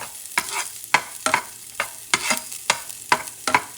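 Onions frying in oil for a sofrito, heard as a soft sizzle broken by about eight sharp, regular scraping stirs of a utensil against the pan, close and with no voices.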